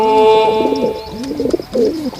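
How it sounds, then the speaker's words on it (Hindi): A pigeon coos in a steady rolling rhythm, close and clear, with a few repeated throaty calls and no voices over it. "और कबूतर की गुटुरगू।"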